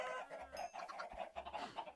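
Chickens cluck repeatedly in the video game Minecraft, a steady run of short, close, moderately loud fowl calls with no talking over them.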